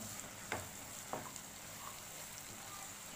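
Pallipalayam-style spicy chicken frying in a pan, giving a quiet steady sizzle with a few soft stirring scrapes near the start and middle, no voices.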